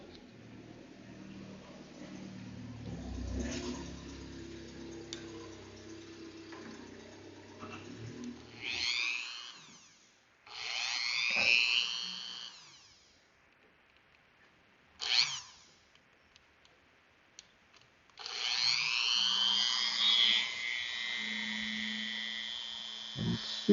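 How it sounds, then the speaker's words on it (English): Wire wheel brushing heavy oxidation off the wheel tread of an Athearn GP35 model locomotive, heard as several short bursts of high whirring and scraping separated by quiet gaps, close and fairly loud. "So I'm going to switch over to the wire wheel for a moment."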